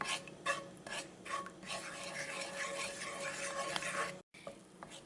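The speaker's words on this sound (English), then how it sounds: "With continuous stirring, heat it for 2 to 3 minutes" Sugar syrup being stirred continuously in a pan as it heats, a steady close scraping and rasping with short rhythmic strokes, briefly cut off near the end before resuming.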